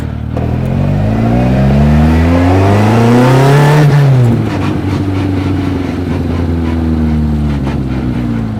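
A 1380cc twin-cam Mini making 150 bhp revs hard from inside the car, its engine note climbing steadily for about four seconds, then dropping and settling into a loud, steady drone as the ride continues, with no voices.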